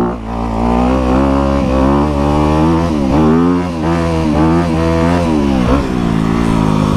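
A small Honda CRF250R dirt bike engine revs loudly and continuously, pitch rising and falling through several throttle blips, close by with no talking.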